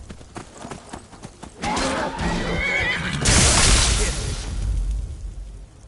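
A horse whinnies loudly amid hoofbeats and a burst of noisy commotion, with some voices faintly present, in the video game Skyrim VR.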